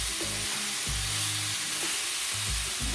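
A burger patty flipped in a hot pan, sizzling and crackling loudly and steadily close up, with a few soft thumps of the spatula and no talking.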